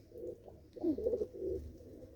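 A pair of pigeons perched up high, including a Shah-eyed male, gives soft low cooing in a few rolling phrases, fairly faint and alone.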